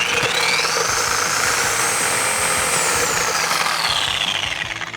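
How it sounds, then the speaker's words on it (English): A Sawzall reciprocating saw cutting through the tops of shock absorbers on a 1997–2006 Jeep Wrangler TJ, a loud, steady buzzing rasp with a rising and falling whine that trails off at the end. "We're going to Sawzall the tops off of these"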